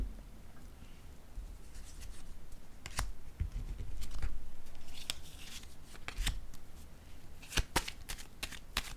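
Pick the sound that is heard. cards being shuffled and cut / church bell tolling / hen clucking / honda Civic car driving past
cards being shuffled and cut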